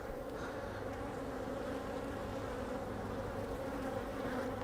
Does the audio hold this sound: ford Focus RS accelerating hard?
no